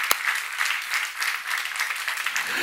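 A church seminar audience gives a brief round of applause, many hands clapping in a bright, even patter of moderate loudness, opening with a single sharp clap.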